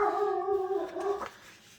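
A pet dog howling and whimpering indoors after running downstairs, one drawn-out wavering howl for about a second, fairly close and clear, ending abruptly with no talking.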